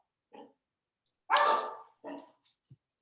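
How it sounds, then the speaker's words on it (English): A dog barks during a virtual town finance committee meeting, a couple of short yips followed by one louder, fuller bark and a softer trailing bark, close to the microphone against near silence. "somebody's got a dog barking."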